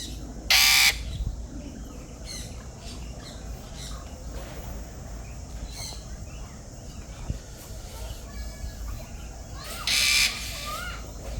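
Parrots and peacocks at the VinWonders park in Vietnam give two loud, harsh squawking calls, one early and one near the end, over a steady outdoor bed of distant chatter and ambient noise.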